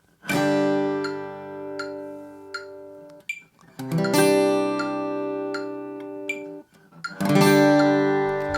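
Guitar chords ring out in three separate groups, with a few scattered strums and uneven gaps between the chord changes, loud and close.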